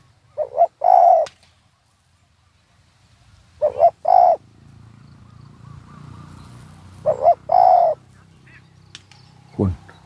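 A spotted dove coos in three clear phrases a few seconds apart, each a short run of soft, hollow rising and falling notes, fairly close and loud over a low outdoor hum.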